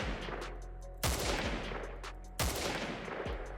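Gunfire in a Minecraft server game, three loud bursts of rapid automatic shots roughly a second apart, close and sharp with no talking.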